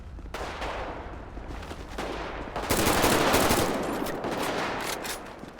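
Gunfire in GTA 5 while sniping at pedestrians on a freeway, a dense crackle of shots that swells into a loud sustained burst midway, fairly close, with no talking.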